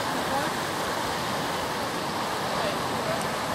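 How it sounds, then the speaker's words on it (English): A waterfall at Franz Josef, New Zealand, pours in a steady, dense broadband roar that fills the scene and stays constant throughout, with no clear voices above it. "We get to see a waterfall."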